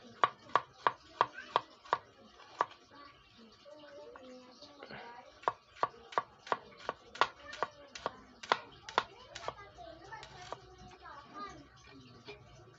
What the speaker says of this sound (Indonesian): Nah, ternyata buat motong bawang lumayan halus